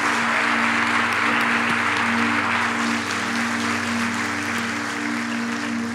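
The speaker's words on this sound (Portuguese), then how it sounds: "Pode aplaudir aí os homens" Men in a church congregation applaud during a service on marriage and family roles, a thick, continuous burst of clapping over a low steady hum, easing off slightly in the second half.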